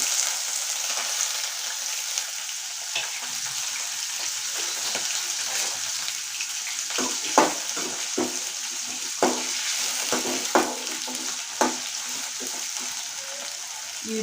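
Chopped onion sizzles in hot oil with cumin, mustard seeds and dal for a Telugu okra fry, a steady close hiss with brief sharp crackles and pops in the second half, no talking.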